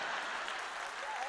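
Audience applause at a Mahavir Jayanti gathering in Ahmedabad, a dense steady wash of clapping hands held at an even level throughout the short moment, with no voices standing out above it.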